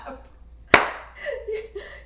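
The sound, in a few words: clapping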